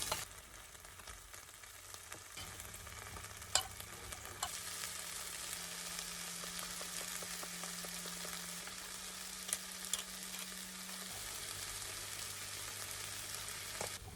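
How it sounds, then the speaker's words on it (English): Rice and beans frying in ghee in a camping pot outdoors, a quiet, even crackling sizzle with occasional faint utensil knocks and a low hum beneath, no voices. "A couple of teaspoons of oil, ghee in this case, going in. Then we're going to add in the rice and the beans."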